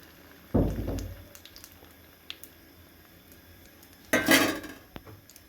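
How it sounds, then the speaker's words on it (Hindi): Omelette egg mixture poured into a non-stick pan of melted butter, with two brief bursts of wet sizzle and clatter from the pan, close by, separated by quieter kitchen clinks. "जब मक्खन अच्छे से मेल्ट हो जाए तो बिस्मिल्लाह रहमान रहीम, तब हम इसमें डाल देंगे ऑमलेट।"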